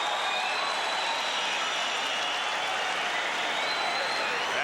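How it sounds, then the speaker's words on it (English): Crowd at a boxing match cheering and applauding at the end of round two of Evander Holyfield versus Ricky Parkey for the IBF title, a steady loud roar of voices and clapping throughout. "This crowd cheering the action that took place in the second round"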